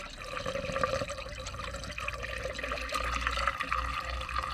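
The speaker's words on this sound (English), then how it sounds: "fill this one up and see where fluid will come out. This is just the water we'll put it in" Water poured into the washer fluid reservoir of a Mitsubishi Delica during a leak test, a steady splashing pour with a low rumbling flow running continuously throughout and no talk.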